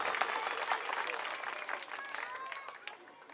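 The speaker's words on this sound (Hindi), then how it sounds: "आज की सभा के लिए जोरदार तालियां अपने लिए" A crowd at a political rally during the Delhi elections claps in sustained applause, with thick clatter from many hands that gradually fades, heard from a distance at moderate volume with some voices mixed in.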